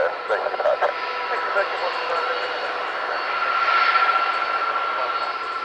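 A Virgin Atlantic Airbus A330 at Manchester Airport roars through its take-off run, a loud steady engine drone with a swelling whine, while radio chatter and talk run over it.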